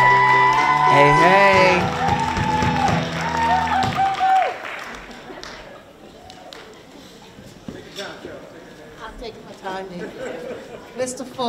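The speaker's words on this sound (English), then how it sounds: "Can we please give her a round of applause?" An audience at a school singing competition applauds and cheers as a speaker is introduced, with a crowd clapping and calling out under music that fades after a few seconds, while voices shout nearby.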